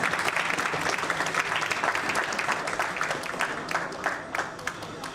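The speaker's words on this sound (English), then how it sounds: "I think let's have a louder round of applause." Sustained audience applause at a startup funding pitch event, dense clapping from a large crowd holding steady for several seconds with no talk over it.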